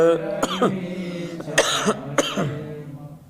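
Several sharp coughs from someone with a cough and cold sound close by, spaced a second or so apart, with a faint tonal background murmuring underneath.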